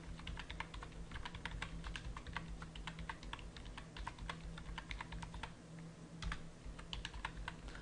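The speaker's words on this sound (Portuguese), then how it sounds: "eu estou digitando o valor e estou descendo a setinha do teclado para baixo" Computer keyboard keys pressed to enter values into a Microsoft Excel 2007 spreadsheet, with down-arrow presses mixed in: close, crisp, irregular clicks in quick bursts and short pauses over a steady low electrical hum, with no voices.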